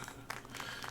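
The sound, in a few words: applause in the video game Syberia The World Before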